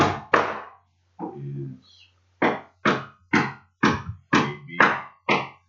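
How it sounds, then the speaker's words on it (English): Construction work in a neighbouring apartment produces a series of sharp, evenly spaced knocks like hammer blows, about eight loud thuds in steady rhythm, following a brief burst of speech at the start. "They're constructing something in my next door apartment."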